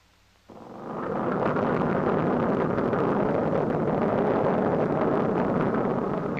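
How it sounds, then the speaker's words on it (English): A B-29 bomber's radial piston engine catches on the starter and settles into a loud, steady, rough roar that holds from just after the start to the end, with no voices. "presses the starter switch to energize, and then flips it to start"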